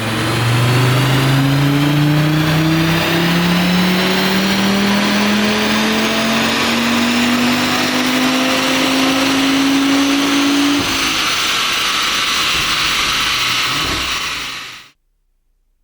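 A stock Audi RS3 8Y facelift engine revs hard on a dyno, its tone climbing steadily for about eleven seconds before easing off and cutting out abruptly near the end; loud, close and continuous with no talking.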